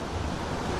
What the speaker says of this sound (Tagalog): malaki alon doon